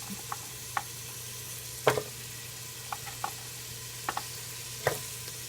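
Carrots dropped into a hot pot for corned beef and cabbage, giving a quiet sizzle with a handful of sharp clatters and taps at irregular intervals, close by and with no talk.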